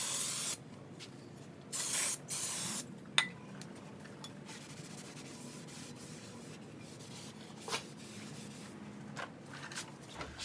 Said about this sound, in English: spray it down with some brake cleaner and clean off the surface